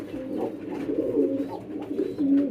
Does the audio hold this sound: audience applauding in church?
no